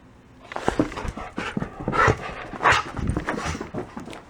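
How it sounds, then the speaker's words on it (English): A dog indoors on a carpet pants in quick, uneven bursts with a few small whimpers mixed in. The sounds are close and moderately loud, with no talking. "Dog's going crazy. He's trying to dig in the carpet."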